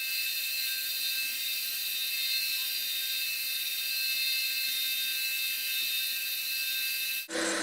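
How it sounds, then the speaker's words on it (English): A handheld rotary tool with a carbide bit shaping the edge of a brass ring: a steady, high-pitched whirring grind that holds nearly constant for about seven seconds, close up, then cuts off abruptly. "keeping the same angle on my carbide bit. I'll go around until I get the desired edge"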